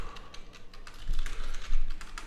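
Computer keyboard typing during an HTML coding lesson, a steady run of light rapid clicks and taps that grows a little louder in the second half, with no speech.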